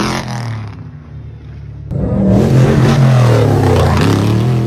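The custom truck Vivian revs hard, its engine rumbling low before surging into a loud, close roar with clattering mechanical texture that holds to the end.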